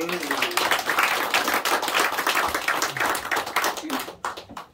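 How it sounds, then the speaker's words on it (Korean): Congregation applauding during a Korean church Sunday service, dense continuous clapping from many hands, loud and close, with a voice speaking over it and the applause thinning out at the end. "하나님께 영광의 박수를"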